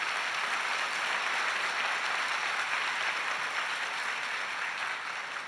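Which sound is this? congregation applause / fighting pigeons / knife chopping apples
congregation applause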